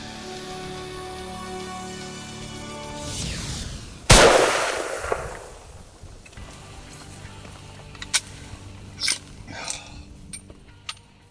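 A single loud rifle shot at a whitetail buck during a hunt cracks sharply after a stretch of quiet ambience, followed by fading echo and a few faint mechanical clicks and rustles.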